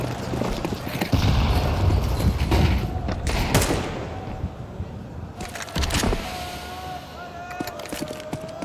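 Pistol gunfire in a Counter-Strike 2 esports match, with sharp shots and bursts crackling amid clattering footsteps and game noise, dense and loud throughout.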